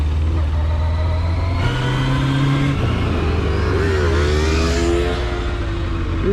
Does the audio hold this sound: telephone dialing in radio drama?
no